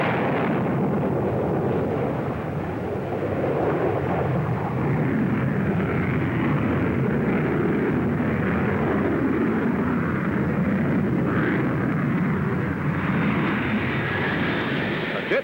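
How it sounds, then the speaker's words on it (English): An Avro Vulcan flying test bed with a supersonic Olympus engine on reheat slung below the fuselage gives a loud, steady jet roar at an air show. It rumbles on throughout with a slight rise in pitch near the end. "The superpowered Vulcan is here a flying test bed for a fifth engine, the supersonic Olympus, with reheat installed below the fuselage."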